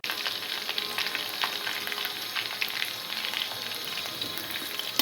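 Green chillies fry in hot oil with a steady, dense sizzle and crackle that holds at even loudness for the whole stretch, close up, with no voices over it.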